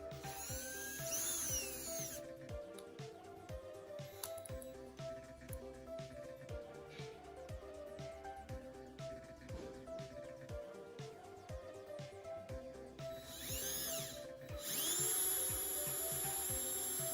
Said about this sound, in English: I will be using a 3/4 inch drill bit.